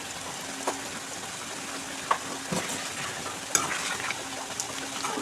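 Goat liver curry being stirred slowly in a pan after ground garam masala goes in, a soft steady sizzle with faint scraping and a few light clinks of the spoon against the pot, close and low in level.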